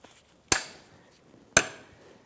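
Two sharp, crisp clicks about a second apart as excess cotter pin is snipped off a Nissan Maxima ball joint, each one close and bright, with a short ring after it.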